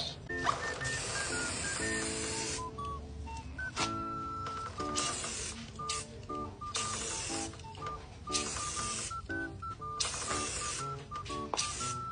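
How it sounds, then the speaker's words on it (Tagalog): Tire foam cleaner spraying onto a motorcycle tire during a streetbike detailing job, short hissing bursts from the aerosol can alongside bright electronic beeps and tones from music or a device playing nearby. "ito yung isang ginagamit kong na panlinis naman, yung gulong, tire foam cleaner. Yan. I-spray muna natin dito"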